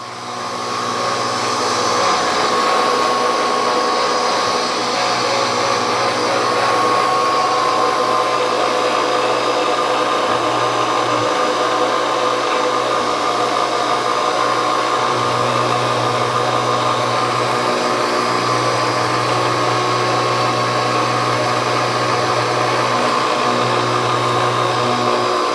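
An NC milling machine cuts rocker arms for a five-cylinder radial engine, giving a steady whining hum of spindle and cutter that ramps up and holds evenly, with faint shifting tones from the cut underneath.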